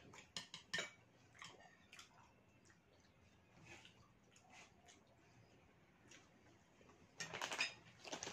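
Cutlery clinks faintly against plates during a meal of lontong sayur lodeh, with scattered light taps and a louder cluster of clatter near the end.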